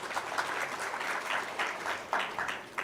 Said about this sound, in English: a round of applause for the panelists here